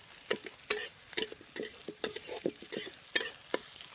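Onions frying in a pan while being stirred, a string of distinct scraping stir strokes roughly every half second over a low background sizzle, close and fairly quiet.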